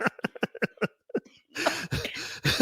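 A woman coughs in a quick series of short, sharp bursts close to the mic, then gives a few more harsher, rougher coughs after a brief pause.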